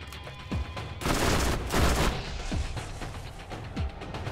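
Rapid bursts of gunfire from a gun in the video game Borderlands, loud and dense, with a sustained volley in the middle and sharper single shots at the start and end.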